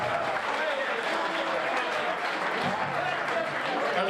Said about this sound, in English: What a nice round of applause for Eddie and LMFM 40 years.